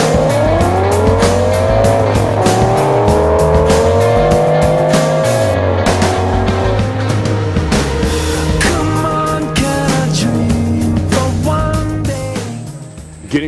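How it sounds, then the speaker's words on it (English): Race cars, including a Plymouth Barracuda and a Chevy Chevelle, roar loudly in a championship race, with engines revving up and shifting through gears, rising and falling in pitch, plus tire squeal near the end and no talking. "So get ready for some rough and ready championship racing."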